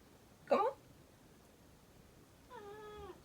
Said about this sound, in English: That is Lola, my ragdoll cat and my official co-host and assistant.